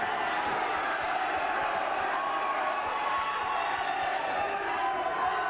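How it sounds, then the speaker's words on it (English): A boxing arena crowd at a professional bout keeps up a steady, loud roar of cheering and shouting, an unbroken wash of voices with scattered whoops that holds even for several seconds. "got the crowd going anyway."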